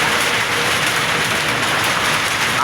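Heavy storm rain pours down outside a shop, a dense, loud and continuous hiss of downpour that holds steady with no letup and no voices.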